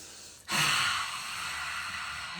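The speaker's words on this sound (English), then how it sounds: "Breathe in." A single sharp, close inhale opens partway through, followed by a softer, sustained airy breath during a morning qigong exercise. No voices are present.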